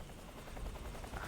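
Helicopter arriving in Metal Gear Solid 3: Snake Eater, a steady low rotor rumble with rhythmic pulsing that holds at an even level and swells slightly toward the end.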